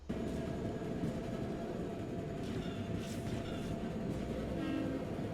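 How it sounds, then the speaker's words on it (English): A train rumbles past with a steady low roar and rattling wheels, loud and continuous, with faint squeals and clacks riding on top. "Oh, that's a train."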